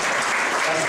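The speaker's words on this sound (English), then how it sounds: "these men who are clapping their hands right now" Comedy club audience clapping their hands, a dense, steady wash of applause filling the whole moment at close range.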